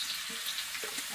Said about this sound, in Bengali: তাড়াতাড়ি এটা ভেজে নিতে হবে